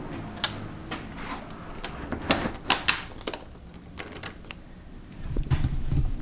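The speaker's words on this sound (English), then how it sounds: "I'm gonna go ahead and shut this door too." A door creaks and clunks shut in a storage shed, with a series of sharp ticking and clattering mechanical noises followed by a low rumbling scrape near the end.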